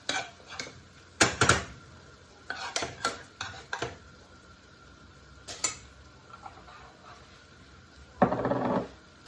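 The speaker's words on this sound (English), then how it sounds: "I'm going to be giving it a stir, so all of the dry seasoning that I just added" Mince beef filling in a pot being stirred after dry seasonings, black pepper and cajun seasoning, are added, with repeated scraping and clinking of a spoon against the pot in short bursts, close and moderately loud, with no talking.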